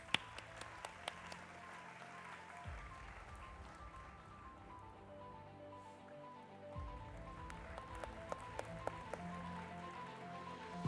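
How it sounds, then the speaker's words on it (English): Audience applause at an awards ceremony for women in security, a round of clapping with scattered sharp claps over steady, moderately quiet room noise. "give them a round of applause."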